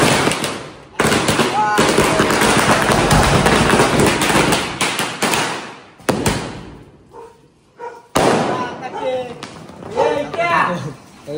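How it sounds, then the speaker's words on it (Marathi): Firecrackers go off in a late-night street birthday celebration: a long, dense, loud crackling barrage of rapid bursts with a couple of brief pauses, then scattered pops as voices talk over it. "तुझ्याकडे फटाके दाखव."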